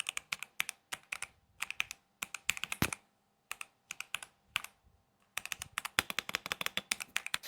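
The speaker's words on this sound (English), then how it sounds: "It makes a little high-end keyboard noise" Crisp, clicky keystrokes from an Epomaker Magcore 87 mechanical keyboard in quick bursts with short pauses between, close and clear, no talking.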